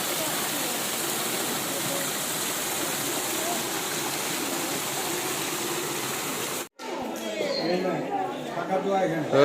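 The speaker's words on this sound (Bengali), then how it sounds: "কি সুন্দর না ঝর্ণাটা" A garden waterfall at a Kathgolap garden house pours in a steady close rushing hiss, then cuts off abruptly near the end as nearby voices and chatter take over.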